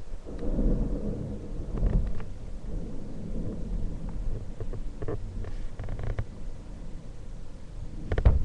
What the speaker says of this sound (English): Winds are really starting to pick up now, getting to the heart of the storm.